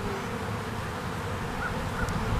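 A swarm of honeybees hums in a steady, close buzz, with a few brief higher buzzes from single bees flying past. No one speaks.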